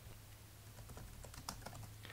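Typing on a computer keyboard during a JavaScript coding session: soft, irregular keystrokes clicking at close range over a low steady hum, with no talk.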